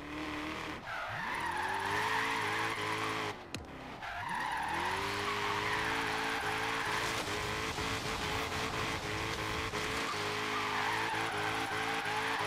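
A Ford Mustang GT350R drifts in Forza Horizon 3, its engine roaring steadily while tires squeal in long sustained skids, with pitch sweeps as the revs drop and climb.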